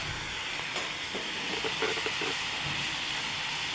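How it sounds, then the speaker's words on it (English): A steady, faint hiss of steam from water boiling in a homemade desalinator over a flame, with a soft background rush, continuous and even throughout. "Just turning to steam."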